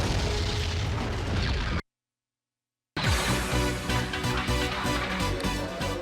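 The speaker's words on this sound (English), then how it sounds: "the fire and smoke effects and the explosions, which are so important to military games" Explosions from a Pandemic military video game on PlayStation 2, a dense, loud wall of booming blasts and crackling bursts that cuts to brief silence before another heavy barrage rolls in.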